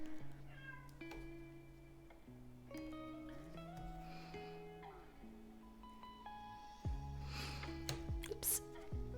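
A cat meows repeatedly in the background, long drawn-out cries rising and falling in pitch, mixed with soft electronic tones and a few sharp clicks.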